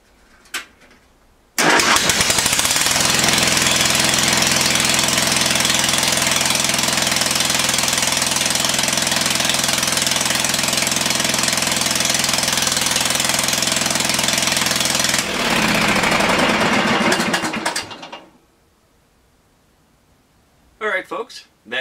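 A lawn mower engine starts and runs loud and steady for about fifteen seconds, then cuts off, leaving near silence with a brief noise at the end.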